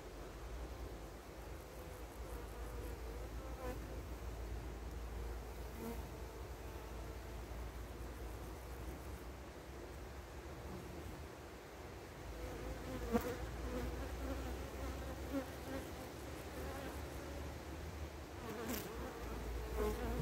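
Honey bees from a young colony buzzing steadily during a hive inspection, a dense continuous hum of many insects close by with occasional louder passes, no talk.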